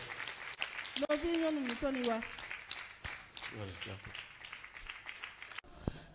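A church congregation applauds to welcome Sister Sylvie, steady clapping heard under a loud voice speaking over it, with further voices and cheers mixed in.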